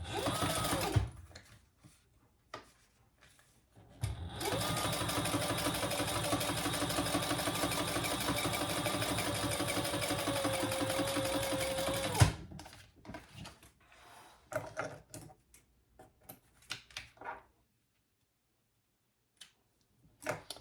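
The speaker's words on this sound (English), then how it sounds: "we're going to turn that over with the seam allowance going towards the bottom and top stitch" A sewing machine top stitches a fabric fish pouch, running in one steady, close, whirring burst of about eight seconds, framed before and after by light handling clicks and fabric rustles.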